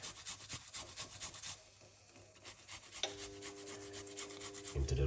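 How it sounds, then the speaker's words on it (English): A piece of fresh ginger grated into liquid, giving quiet, close rasping scrapes in quick repeated strokes, with a short pause partway through. "Grate in this lovely piece of a ginger"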